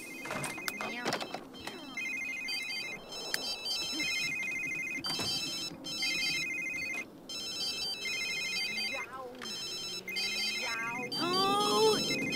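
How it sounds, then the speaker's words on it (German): A mobile phone ringtone from The Sims 3 video game repeats in bright melodic bursts throughout, mixed with game sound effects, while people talk over it. "man hört ihr Handy oder wir?"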